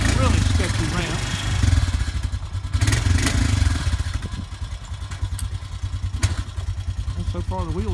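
A 2006 Honda Foreman ATV rolls down makeshift ramps after a rear axle replacement, its engine idling and revving with clattering and clunking, close by, with voices in the background.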